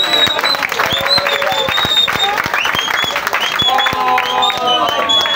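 A crowd claps steadily at a political rally on the referendum in Gabon, with sharp broadband claps and voices and whistles layered over it, loud and sustained throughout.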